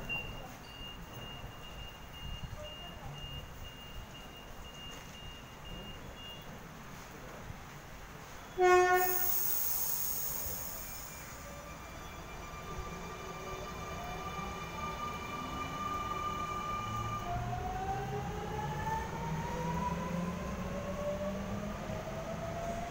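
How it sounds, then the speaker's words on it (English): A Sydney train pulls out of the platform at Pendle Hill station, with a loud hiss and release near the start, then a steady rolling rumble and rising electric motor whine as it accelerates away. "Now departing from platform number 4."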